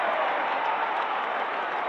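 Crowd cheering in the AFL Live 2 Australian football video game, a continuous loud roar of a stadium crowd that holds steady throughout, with no distinct claps or voices standing out.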